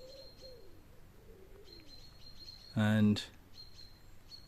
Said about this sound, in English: all the bird sounds here